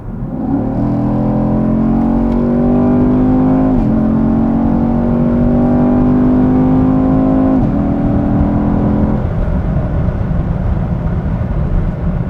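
The 6.2-litre naturally aspirated V8 of a 2016 Chevrolet Camaro SS roars steadily as it accelerates, its deep tone climbing in pitch through a gear change before settling into a loud, rough drone.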